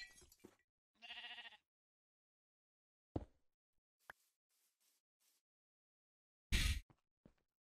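Minecraft sheep in the Vault Hunters modded game bleat close by in several short, separate blats. Near-silent gaps fall between them, with a couple of faint clicks.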